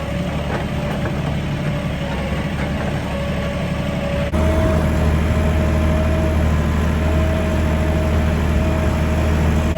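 A farm tractor engine runs steadily at close range, a deep, low diesel rumble with a constant knocking hum that gets slightly louder partway through and carries on without talk.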